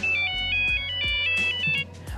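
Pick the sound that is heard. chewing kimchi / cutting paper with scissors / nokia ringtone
nokia ringtone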